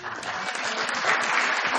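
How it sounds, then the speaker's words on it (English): An audience applauds steadily, a dense close wash of many hands clapping without pause, with no voices standing out. "we want to clap for you all night, because we all love you so much"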